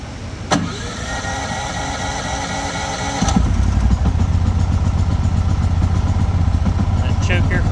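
A Champion 8500 watt inverter generator is started with the push button, a click followed by the engine cranking and catching, settling into a loud, steady running rumble close by.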